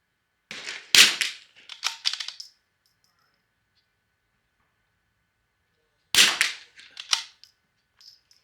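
Rifle shots with Lapua long range ammunition, two sharp cracks several seconds apart, each followed by a brief rattling clatter and then silence, no speech.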